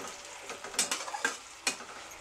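A tomato frying in a pan for vajri masala, a soft sizzle with a few sharp scrapes and clinks of a spoon stirring, brief and close.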